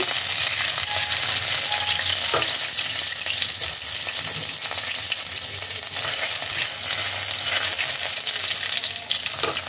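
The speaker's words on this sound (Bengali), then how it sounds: "কয়েক সেকেন্ড রসুন কুচি থেকে একটু নাড়াচাড়া করে ফ্রাই করে নেব।" Chopped garlic frying in oil makes a loud, dense sizzle throughout, overlaid with scraping and clicking as it is stirred in the pan, close up and with no talking.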